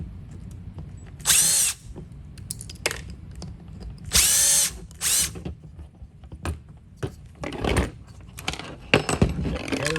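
Cordless impact driver working on the exhaust header of a Traxxas Nitro Rally RC car, delivering several short bursts of buzzing, hammering whirs between clinks and handling noises, close and loud.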